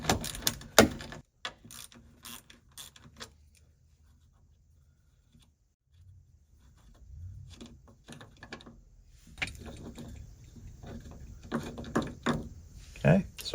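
Two 10mm bolts on a Fiat door check strap are undone with a ratchet, giving bursts of quick clicking and metallic rattles up close, separated by a quiet pause, while someone talks over parts of it.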